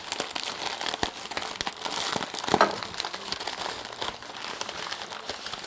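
The wrapping on a cake from a food parcel sent from Great Britain is opened with close, continuous crinkling and rustling, with a brief tearing burst midway and no talk.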